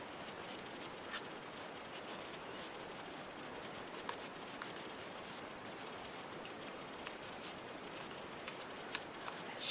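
Scissors snip around paper pieces for a handmade double envelope mini album, a continuous soft scratchy rustle of small close cuts and paper handling with no talk.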